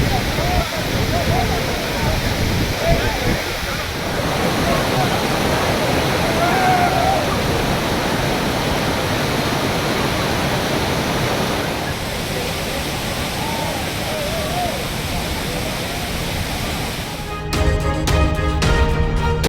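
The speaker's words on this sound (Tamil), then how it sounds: "கடந்த ஒரு மாதத்துக்கு மேலாக பெய்து வரும் கனமழையால் கிளியூர் அருவிக்கு நீர்வரத்து அதிகரித்துள்ளது" The Kiliyur waterfall swollen after weeks of heavy rain roars as a loud, steady, broadband rush throughout, with a brief burst of different sound near the end.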